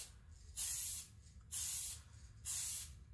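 Spray can painting a Lexan RC car body, three short even hissing bursts of about half a second each, separated by brief pauses, close and distinct over a faint room background.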